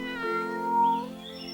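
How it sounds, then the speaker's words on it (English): A single drawn-out kitten meow in a garden, clear and close, rising and falling in pitch over about a second and a half with no talk over it. "While strolling the garden, they saw a kitten."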